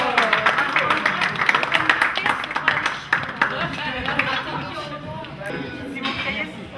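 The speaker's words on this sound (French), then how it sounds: "On va applaudir." Applause in a restaurant kitchen setting: a small crowd claps in dense, continuous patter that fades slightly toward the end, with people talking and laughing underneath.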